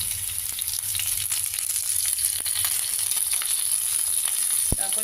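Ginger pieces, green chillies and curry leaves sizzle steadily in hot oil, a constant close frying hiss with small pops and an occasional clink of a spoon, no talking.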